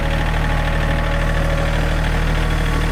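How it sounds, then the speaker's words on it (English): A tractor engine idles and chugs steadily at close range, a continuous low rhythmic throb with mechanical vibration and no voices over it. "I'm going to jump on the tractor and put some gravel down."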